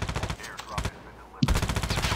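Pistol gunfire in a video game comes in rapid bursts of loud, sharp shots, with a brief lull before a dense final volley.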